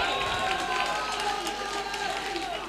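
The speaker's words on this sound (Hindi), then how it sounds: "अपने सम्मान में एक बार ताली आप बजा लीजिएगा" An audience at a mushaira poetry gathering claps and cheers in a dense, sustained wash of applause with voices mixed in, moderately loud and slightly distant.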